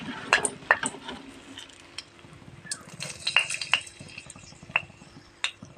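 Sugar spooned into hot mustard oil in a wok gives a light, quiet sizzle, punctuated by sharp spoon clicks and scrapes against the metal, with no speech.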